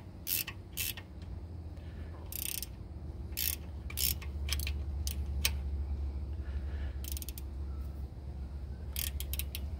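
A ratchet with a 19 mm socket tightens a thermostat housing bolt on a Jeep Cherokee XJ, giving repeated quick clicking bursts close by over a low steady hum, with pauses between strokes.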